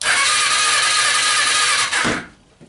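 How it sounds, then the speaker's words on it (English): A Suzuki GS500 motorcycle engine turns over with a loud, buzzing crank for about two seconds, then cuts off abruptly into near quiet. "I'm able to turn over the engine"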